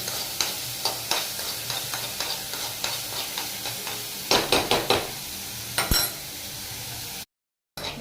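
Two garlic cloves roasting in a pan, a continuous close sizzle broken by regular scraping and clinking stirs of a utensil against the pan, with a brief dropout near the end and no talking.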